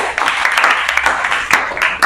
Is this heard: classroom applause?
yes